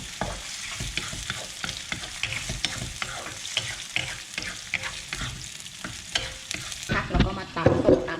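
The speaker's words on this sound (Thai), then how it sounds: "ใส่ลงไปผัดเลยนะคะ" Ingredients stir-fried in a pan for a quick Thai dish, with steady sizzling and repeated scraping strokes of a utensil, close and fairly quiet, and a louder clattering burst near the end.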